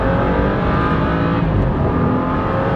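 BMW F30 sedan accelerating hard on a zero-to-sixty pull, engine roaring loud and steady throughout with a rising drone and a brief shift dip midway, no talking.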